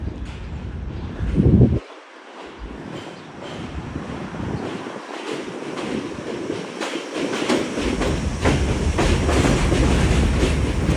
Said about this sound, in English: Very slow-moving D train up ahead.